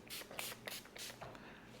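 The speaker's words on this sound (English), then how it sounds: "Spray our rapid tack on it. I'm gonna just spray this half portion of it first" Rapid tack adhesive sprayed from a nozzle onto a Yamaha Superjet jet ski wrap in short hissing bursts, about five quick pulses close by, with no talking.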